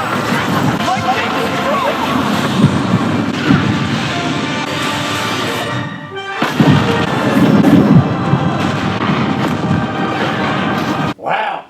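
A cartoon lightning-and-thunder effect in an animated He-Man and the Masters of the Universe episode: loud, dense crashing booms rolling over several seconds, mixed with voices and music, then a brief cut near the end.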